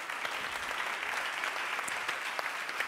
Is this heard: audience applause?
yes